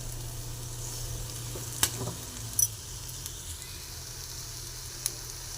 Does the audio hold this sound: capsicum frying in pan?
yes